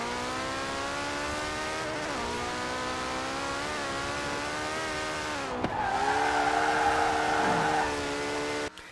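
Fast car from the Forza Horizon 4 car pass, rated at 1,400 horsepower, revs hard and accelerates in a steady rising engine whine that dips briefly before surging louder toward the end, with no talk.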